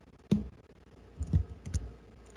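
Three distinct mouse clicks on a computer, close and crisp, spaced apart in a quiet room with no talking.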